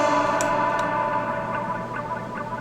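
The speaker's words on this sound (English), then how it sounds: "You can hear that little dub echo there." Music carries a dub-style echo delay throw, with short tones repeating and fading in a decaying echo trail over a steady, saturated background.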